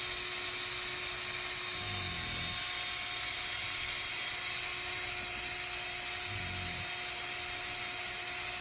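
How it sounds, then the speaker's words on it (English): An electric drill spins fishing line off a fishing reel with a steady high-pitched whine and constant hum throughout, close and loud, with two brief low rumbles and no talking. "wrapped it around this metal tubing of the drill, and just let it rip"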